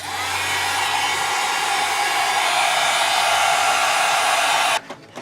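A hair dryer blows steadily on a freshly stenciled mixed media board, a loud, continuous whirring rush that runs unbroken for nearly five seconds before switching off abruptly.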